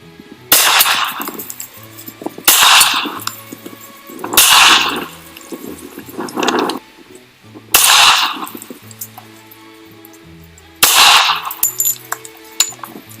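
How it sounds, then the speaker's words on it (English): A 3D-printed DMLS metal 1911 pistol fires .45 Winchester white box rounds: five loud, sharp reports with ringing tails, spaced irregularly a few seconds apart, with no talking. "So we're gonna try 3 rounds, 45 Winchester white box."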